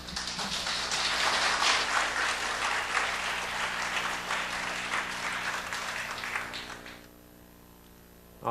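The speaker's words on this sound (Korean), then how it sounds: "여러분의 뜨거운 박수로 앞으로 모시도록 하겠습니다" Warm audience applause fills the room for several seconds, then fades out to quiet, leaving a faint hum.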